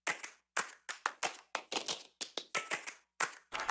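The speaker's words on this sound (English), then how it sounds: "Then we have a little cashmere clap loop just to give some backbeat." A looped cashmere clap drum sample for an alternative pop rock track, sharp dry claps repeating in a steady, syncopated backbeat pattern, heard on their own with no voices.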